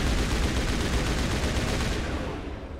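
Continuous gunfire from a Mass Effect Legendary Edition battle, a dense, loud barrage of shots running steadily throughout with no talk over it.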